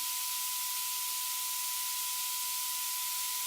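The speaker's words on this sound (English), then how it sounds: "you see white noise is decreased." Steady broadband hiss fills the clip, constant and even with no variation, with a faint thin tone running underneath.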